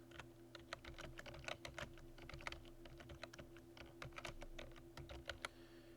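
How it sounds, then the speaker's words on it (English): Steady typing on a computer keyboard, rapid irregular key clicks running throughout at close range over a faint constant hum, with no voices. "for the title we're just going to type something like Earth Day gift basket"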